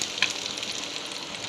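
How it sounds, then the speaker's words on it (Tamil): Finely chopped onions crackle and sizzle in hot oil in a pan, a steady close frying hiss with one brief sharp pop near the start. "எண்ணெய் ஊற்றிட்டு நம்ம நறுக்கி வச்சுருக்க சின்னமாக நறுக்கி வச்சுருக்க வெங்காயத்தையும் சேர்த்துக்கலாம்"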